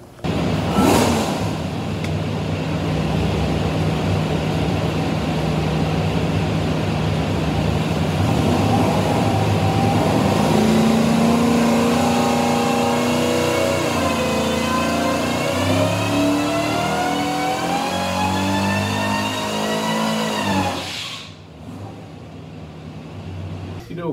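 A 1015 hp Whipple-supercharged 427ci LS engine built for an airboat roars through a long dyno pull, pitch climbing steadily for about twenty seconds before cutting off sharply, loud and close.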